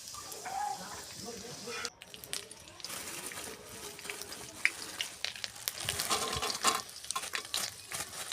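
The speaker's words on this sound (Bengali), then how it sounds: "সাদা ভাত, তেজপাতা, এলাচ, লবঙ্গ তেলে দিয়ে দিলাম" Cooked white rice being tossed in oil with bay leaf, cardamom and cloves, giving faint sizzling and scraping stirs under a person's talk, closer and busier toward the end.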